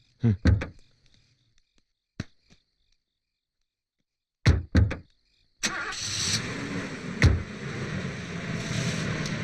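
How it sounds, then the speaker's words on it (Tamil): A car in a movie scene: a few door thumps and clicks, then at about six seconds the engine starts and settles into a steady, fairly loud running drone that continues to the end of the clip. "நான் வண்டி ஓட்டுறேன்"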